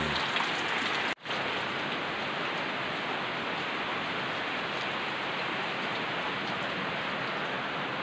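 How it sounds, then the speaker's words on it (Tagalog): Steady rain falls under a dark sky, a dense, even hiss of drops on surfaces that runs without a break, apart from one very brief dropout near the start. "O ayan, ang ulan."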